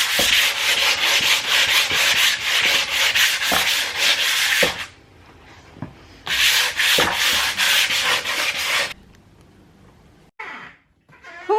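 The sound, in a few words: sanding a piece of wood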